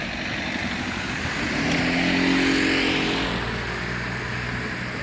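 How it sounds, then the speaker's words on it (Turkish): Heavy evening rush hour traffic in Bahçeşehir Esenkent, with a dense, steady roar of cars and motorcycles passing close by and an engine swelling louder midway before easing off. "Şimdi trafik düzeliyor sonra tıklım ondan sonra baştan tıkanmaya başlıyor."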